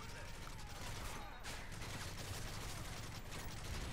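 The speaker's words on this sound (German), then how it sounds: "Obwohl ich gerade schon nachladen musste, konnte ich sogar noch relativ viel schießen." Rapid gunfire from a video game shooter in chaos mode, a dense continuous stream of shots filling the whole stretch with steady mechanical clatter and voices underneath.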